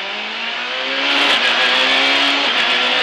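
A rally car launches from a special stage start at Slovnaft Rally Bratislava, heard from onboard as a loud, rising engine roar that climbs steadily in pitch with a short shift break before revving on.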